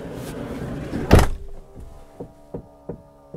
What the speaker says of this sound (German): Hört ihr es? Die Zuziehhilfe.